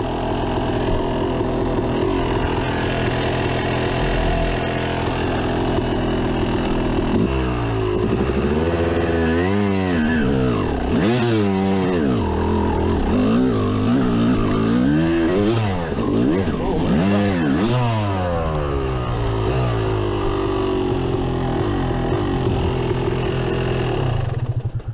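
Off-road dirt bike climbing a steep OHV mountain trail while running slightly hot, the engine droning loud and close throughout, with repeated revving surges and gear-laden rises and falls in pitch as it labors uphill.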